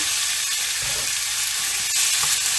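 Chicken and cauliflower rice stir-frying in a pan make a loud, continuous close sizzle, with faint scraping stirs and a brief clack near the end, no speech.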